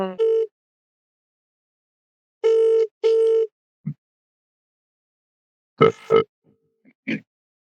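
Telephone line tones after call forwarding: short steady tone bursts with a chirp at the start, then a pair of louder tones and a few brief blips, with silent gaps between.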